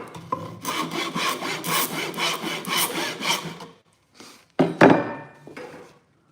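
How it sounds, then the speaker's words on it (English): Hand rasp filing wood, a close, rhythmic series of rough scraping strokes for several seconds, then a pause and a couple of heavier knocks near the end. "So that's where that rasp comes in handy."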